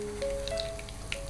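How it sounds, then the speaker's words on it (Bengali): Breadcrumb-coated chicken, dipped in egg and rolled in crumbs, frying in hot oil, giving a steady low crackle with a few brief spits and pops and some faint tonal hum behind it. "ব্রেড ক্রাম্ব দিয়ে এখন ভেজে নিচ্ছি"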